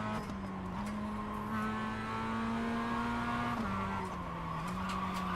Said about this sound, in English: tires are very cold, so they will spin almost immediately if you try to trail brake a little bit